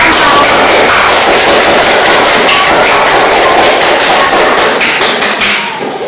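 Loud, dense applause fills a classroom after a student group presentation, with many hands clapping steadily for several seconds before it starts to thin out at the end.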